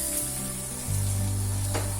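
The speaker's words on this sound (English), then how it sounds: "So I'm going to add another ladle of hot stock." Hot stock ladled into risotto rice in a pan, a sudden loud sizzle and bubbling that starts midway and continues steadily, close by, after a quieter simmer.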